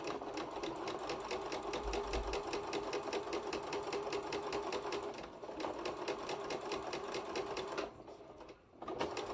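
A sewing machine runs close by, stitching opposing curved quilt fabric pieces together in a fast, even rattle of needle strokes, pausing briefly twice before starting again.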